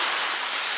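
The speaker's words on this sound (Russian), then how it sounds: "А на нас капает дождь." Steady rain falling outdoors during a swim, a dense, even hiss of drops pattering on surfaces close by, unbroken for the whole moment.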